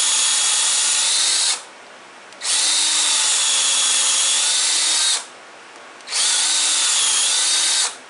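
A power drill bores a hole into wood in loud, steady whining bursts, running about a second and a half, pausing, then running again in three close passes with no talk.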